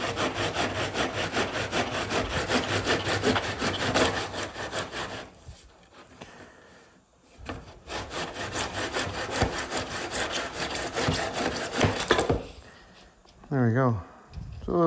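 A track saw running along an aluminum guide cuts a wooden door down to size, a loud, steady rasping whine in two long passes separated by a brief pause, followed by a short whirring burst at the end.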